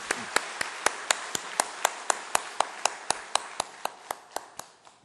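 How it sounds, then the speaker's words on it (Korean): Steady, evenly spaced claps ring out in a reverberant church during an evening service, a single regular rhythm of sharp hand claps that slowly fades toward the end. "여러분 이 젊은이들에게 한번 뜨거운 박수 보내주시면 좋을 것 같아요"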